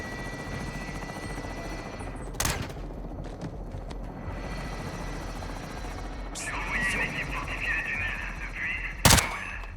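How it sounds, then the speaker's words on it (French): In Call of Duty Modern Warfare 2 combat, a helicopter's rotor drones steadily while sharp gunshot bursts crack out twice and a brighter mechanical whine rises between them; voices speak intermittently over the din. "Les Shadows sont concentrés sur l'hélico."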